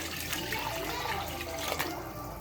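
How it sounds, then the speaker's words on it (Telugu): Water is poured into a cooking pot of wilted gongura sorrel leaves while making gongura pulav, a steady low rushing splash that runs the whole time at modest volume. "ఇలా మగ్గిపోయినాక ఇప్పుడు వాటర్ పోసుకోవాలి"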